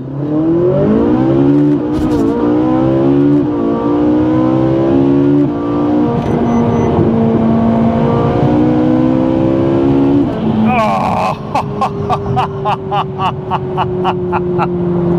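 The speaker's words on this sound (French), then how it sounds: "458, on met ça en mode race et c'est là que ça se passe." A Ferrari 458 Italia engine in race mode revs hard and climbs steadily in pitch, loud and close, then shifts with a rapid crackling burble.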